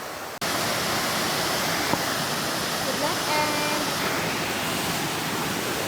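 A waterfall pouring into a swimming pond at Lanas roars as a steady, loud, broadband rush that continues unbroken throughout.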